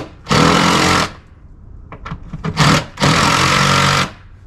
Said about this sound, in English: I've got a drill.